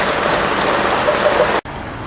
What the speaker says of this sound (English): it's getting down to a slow trickle here now